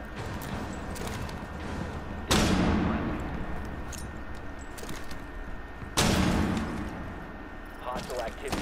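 A flashbang goes off during a ranked Rainbow Six match, two loud broadband bursts that ring out over a steady busy game mix, with a voice talking in the background.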